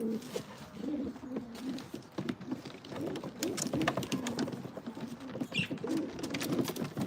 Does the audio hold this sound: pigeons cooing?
yes